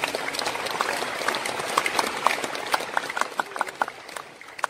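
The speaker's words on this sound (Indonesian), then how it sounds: "Tepuk tangan buat saudara semua." An audience claps at a religious gathering, moderate and fairly close, the clapping thinning out into scattered individual claps toward the end.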